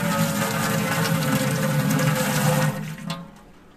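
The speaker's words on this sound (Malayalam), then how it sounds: "വെള്ളം വന്നു." Water gushes steadily from a household disk-valve tap just repaired with new fittings, a loud continuous rush that cuts off suddenly near the end, leaving quieter dripping and trickling.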